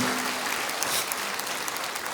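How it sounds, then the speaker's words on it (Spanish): A church congregation claps loudly and steadily in a dense, continuous burst of applause lasting a couple of seconds, with no talk over it. "Dele un aplauso fuerte al Señor porque Él ha enviado la lluvia."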